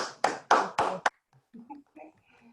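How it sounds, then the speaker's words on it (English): After a lunchtime talk, a short burst of a few loud, close hand claps stops quickly, followed by faint scattered voices and small sounds. "giving her a round of applause"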